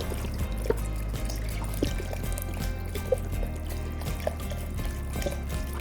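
Vegetable broth poured over potatoes in a soup pot, a steady low liquid pour with faint trickling and a few small clinks, close and moderately quiet throughout.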